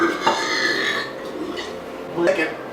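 A burp sounds up close near the start, followed by a second rougher belch-like sound a couple of seconds later, with talking between them.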